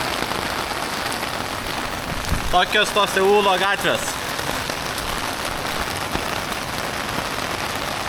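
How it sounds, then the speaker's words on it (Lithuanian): Heavy rain pours steadily on a street in Seoul, a continuous wash of downpour noise throughout, with a person briefly talking in the middle. "žiauriai smarkiai lyja"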